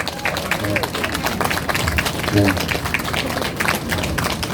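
Audience clapping at a candle show at a New Year sunrise festival at Homigot, steady dense applause with crowd noise beneath someone talking into a microphone.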